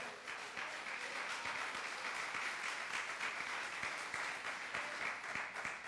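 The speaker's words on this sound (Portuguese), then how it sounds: "Dê uma salva de palmas ao Senhor." Worshippers in a church clap for the Lord, a steady sustained round of applause from a gathered congregation, fairly distant and soft, continuing evenly for several seconds without talk.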